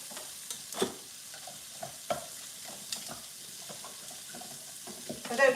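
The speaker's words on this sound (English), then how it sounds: "they will sizzle away and be" Pieces of food sizzle and crackle in a frying pan while South Asian dishes are cooked, a steady moderate hiss broken by occasional stirring clatters and scrapes.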